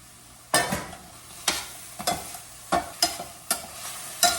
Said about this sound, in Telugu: ఇవి కొంచెం బాగానే వేగాయి